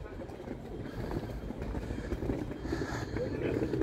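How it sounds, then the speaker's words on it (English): A tram runs past in Birmingham, a continuous rumbling, rattling roll of wheels on rail with rising and falling noise, heard outdoors at moderate distance with no talk. "Somebody tell me where these trams are going very quickly."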